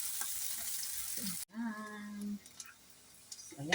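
Onion frying in a pan gives a loud, close, hissing sizzle for about a second and a half, then cuts to a quieter background with a brief voice-like tone.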